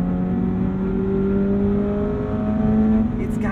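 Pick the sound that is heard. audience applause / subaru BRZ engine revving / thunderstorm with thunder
subaru BRZ engine revving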